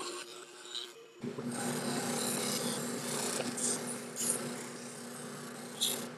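A plain paraffin candle rubbed along a saw blade to coat it, giving a steady close rasping scrape that runs continuously for several seconds after a brief quiet start, with no talk.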